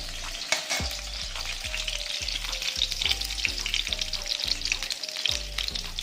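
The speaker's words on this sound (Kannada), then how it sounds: "ಆನಿಯನ್ಸ್ ಇಲ್ಲಿ ಫ್ರೈ ಮಾಡ್ಕೊಳ್ಳಿ" Onions frying in a pan for a brinjal masala curry, a loud, dense close sizzle with regular stirring scrapes and clinks about every half second, no voices.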